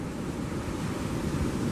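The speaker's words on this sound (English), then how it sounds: "And it is windy out here." Steady wind buffeting a microphone on a St Lucia beach in the afternoon, a loud continuous rumbling roar with surf washing underneath and no voices.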